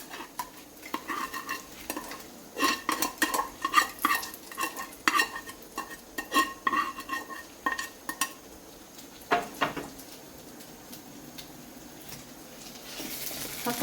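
Onion being sautéed in oil for a Mumbai Saraswat-style mutton curry, with bursts of spoon stirring and metal clinks against the pot over a quiet sizzle, close and alone.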